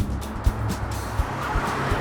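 A car turns around with tyre noise and engine sound, close and moderately loud, with a few short scuffs or thumps during the manoeuvre.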